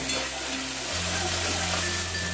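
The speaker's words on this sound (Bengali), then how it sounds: "মশলাটা একটু খুব ভালো করে কষিয়ে নেব এক মিনিটের মতনই কষাবো" Spice paste with red chilli powder fries in a pan, giving a steady, even sizzling hiss over a low background hum, with no one speaking.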